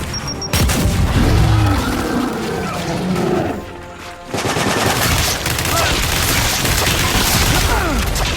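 Explosions and heavy gunfire from the Gears 5 campaign on Insane difficulty, with a frag grenade blast amid dense, loud, continuous combat noise and a brief lull near the middle.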